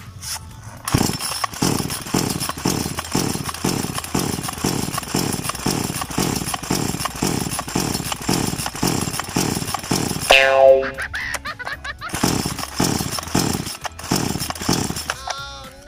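A New West 488 Plus (3800 model) chainsaw engine runs close by with a steady pulsing rattle, drops to a brief idle with a rising whine, then picks up again.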